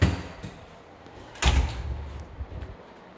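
A closet door inside the front entrance of a house bumps shut with one solid thud, followed by faint rattles and small knocks in an otherwise quiet room.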